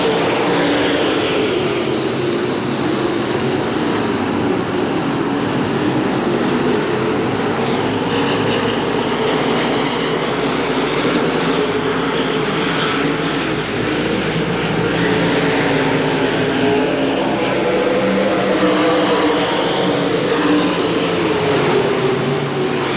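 A pack of race cars at Hamilton County Speedway roars past in a loud, continuous droning blend of engines, steady and close, with no voices over it.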